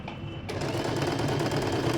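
Stitching a dart on a blouse, a sewing machine starts up partway through and whirs steadily and close, its rapid needle rhythm continuing to the end.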